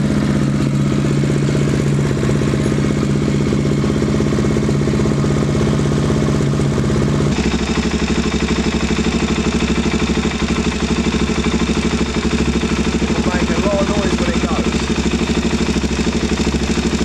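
A KTM 690 single-cylinder motorcycle fitted with a mechanical timing chain tensioner idles loudly up close, its steady chugging rhythm shifting partway through as the engine note drops, with no one talking.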